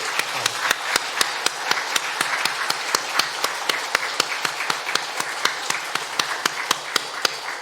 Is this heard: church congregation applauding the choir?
yes